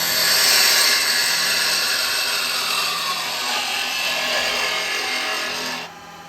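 A drill bit bores a hole through the middle of a wooden workpiece spinning on a woodturning lathe, making a loud, steady grinding whir for about six seconds before it suddenly drops away.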